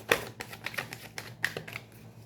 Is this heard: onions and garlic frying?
no